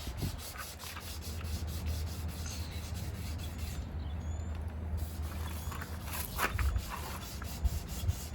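Hand sanding the paint on a 1981 Ford Mustang Foxbody, a steady close abrasive rubbing that runs continuously with slight swells in intensity, no voices.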